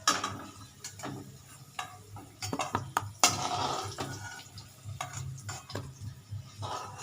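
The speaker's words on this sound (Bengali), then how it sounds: "আলুগুলো একটা একটা করে তুলে নিচ্ছি।" Fried potatoes lifted one at a time from a pan of hot oil while making a Bengali chicken curry, giving repeated sharp clinks and scrapes of a utensil against the pan over a steady low sizzle.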